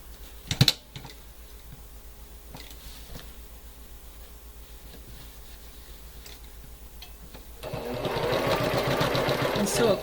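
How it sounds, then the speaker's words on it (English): A sewing machine stitches quilt pieces together with a quarter-inch seam. Quick mechanical ticking comes first, then the motor speeds into a dense, louder whir near the end, with a sharp clatter near the start. "And sew a 1/4 inch."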